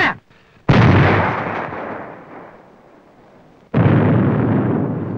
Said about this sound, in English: The command to fire is given by the gunner as soon as he is ready.